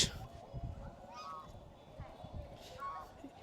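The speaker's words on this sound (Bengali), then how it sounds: "ওরে বাবা, বিশাল বিশাল রাজহাঁস।" Large geese honking at a rural cottage retreat near Kolkata, several short nasal honks scattered across a few seconds at moderate distance, quiet and unaccompanied by talk.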